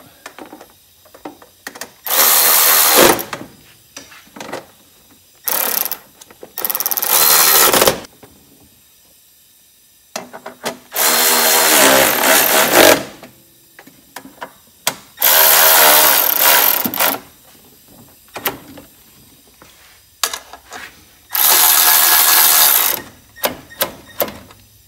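A power tool tightens bolts on a Briggs & Stratton small engine in several loud bursts of whirring and ratcheting, each lasting a second or two, separated by quiet gaps with small clicks and handling noises.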